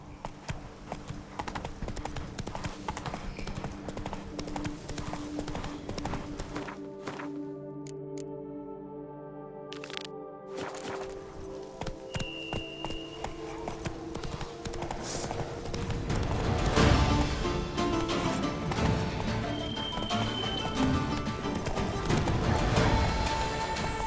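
Horse hooves clip-clop steadily in The Witcher 3, a continuous trotting rhythm under layered game music and ambience, with a brief lull partway through before the hoofbeats pick up louder again.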